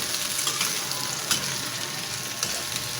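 Sliced hotdogs frying in a pan while being stirred, a steady close sizzle with occasional scraping clinks of the utensil against the pan, no talking.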